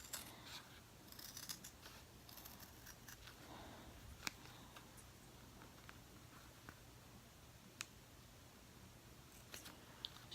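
Scissors snipping through paper, a series of faint, irregular close-up clicks and crisp cuts over quiet background, with no talk.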